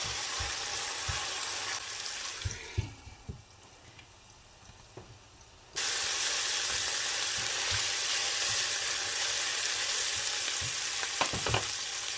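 Onions frying with red and green peppers in a pan, with a loud continuous sizzle, a quieter dip midway, then a sudden return to full sizzle along with occasional stirring clicks and scrapes.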